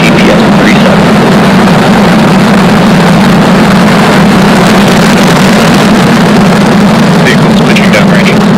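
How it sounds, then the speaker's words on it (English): A SpaceX Falcon rocket lifts off with engines at full power, a loud, steady, deep roar and rumble filling the whole stretch, with a distant voice faintly audible under the noise. "Ignition. Engines full power. And liftoff."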